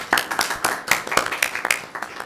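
Scattered, uneven hand claps from a small audience at a committee meeting, a few sparse claps with gaps rather than a full roar, fairly close and brief.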